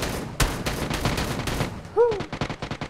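Gunfire in the mobile battle royale game New State Mobile: a dense run of rapid, sharp shots, followed by a chirping tone and a quicker burst of evenly spaced shots, loud and close.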